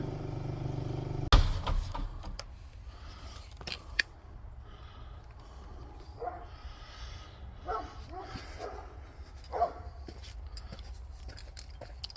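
A dog barks a few scattered times at a distance, sharp yips amid quiet background noise and faint movement.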